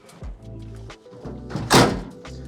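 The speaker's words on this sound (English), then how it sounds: "First, you start by lifting up your tailgate" Tailgate of a Bruin hardwall camper from Oru Designs being lifted, with a series of hollow thunks and knocks building to one louder thud near the end, close by.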